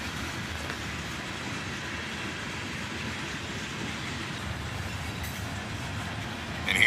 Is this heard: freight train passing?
yes